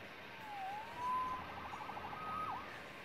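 A faint wailing siren in the video game Marvel's Spider-Man rises and falls a few times in the distance over a quiet background hum.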